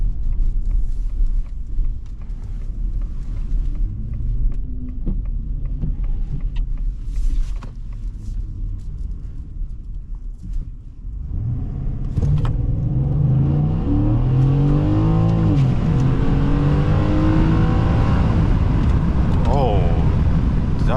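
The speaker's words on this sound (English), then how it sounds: "we're gonna do one quick 0 to 60" A Ford F-150 XLT pickup truck accelerates from 0 to 60, a deep engine drone that swells into a loud rising roar through the gears, with cabin rumble underneath and someone talking over it.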